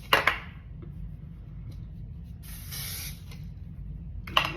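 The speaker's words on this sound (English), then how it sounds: "I've been using this hairspray for years" An aerosol hairspray can hisses onto hair in a quick opening burst, a longer spray in the middle and a final short puff, all close and fairly quiet, with no speech.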